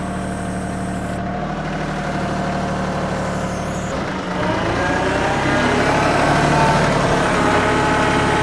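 An excavator clearing silt from a pond runs its engine, a steady diesel drone that climbs and thickens as it is revved up to 1800 RPM partway through, nearby and without talk.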